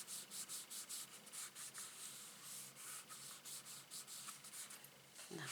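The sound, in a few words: rubbing down paper on a card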